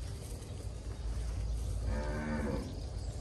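A cow of an Australian breed moos on a Vietnamese breeding farm, one long, low, fairly close call in the second half over steady outdoor background noise.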